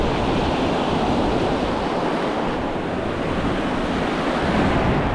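Ocean surf breaking on a beach during surf fishing for salmon, a continuous loud wash of whitewater and wind with no clear gaps, filling the whole stretch.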